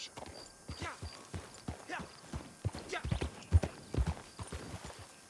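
Horse hooves clip-clop at a steady walking rhythm in the video game Red Dead Redemption 2, fairly quiet and close, with a voice speaking faintly beneath.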